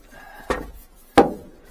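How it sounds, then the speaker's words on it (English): Cushions on a 2023 Stabicraft 2750 Ultra Centrecab boat are set in place, making two short, close thumps about 0.7 seconds apart in a quiet setting. "These cushions go over the top."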